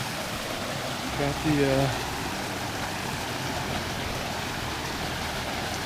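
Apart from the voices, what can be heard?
mountain river flowing at a trail crossing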